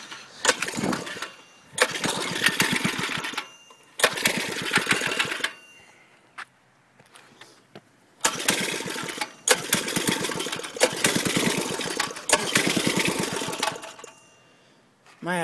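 A Klipper go-kart's small engine struggles to start, with repeated bursts of loud rattling sputter that catch briefly and die out, separated by short quiet gaps, recorded close and without talk.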